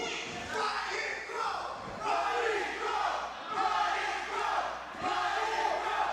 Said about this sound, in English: Crowd chant for Ryan Crowe.